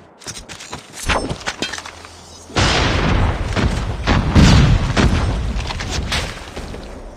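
A grenade goes off with a heavy boom in Call of Duty Mobile during Search and Destroy gameplay, followed by sustained crackling, rumbling blast noise mixed with game effects.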